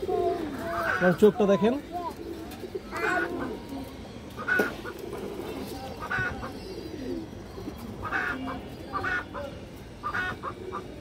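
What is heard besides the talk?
pigeons cooing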